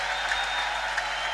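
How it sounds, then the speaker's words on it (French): A church congregation applauds, a dense, steady wash of many hands clapping at once, loud and continuous throughout. "Applaudissez le Seigneur."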